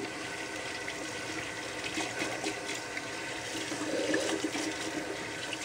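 Running water from a tap steadily rinses soapy hands over a sink, a continuous close splashing hiss with a slight swell near the end.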